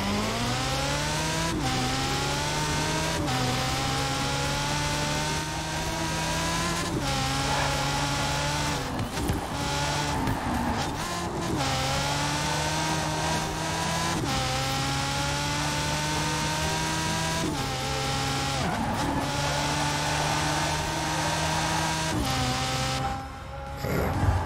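A LEGO Ferrari F40 in Forza Horizon 4 is driven hard, its engine revving up through the gears with repeated upshifts, a loud, steady whine that rises and drops throughout.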